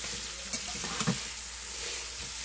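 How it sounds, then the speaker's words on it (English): Shaved lamb and vegetables sautéing in a pan, a steady close sizzle with a few light stirring knocks of a utensil against the pan. "So here we are with this saute, and this is going to take a good 10 minutes to do."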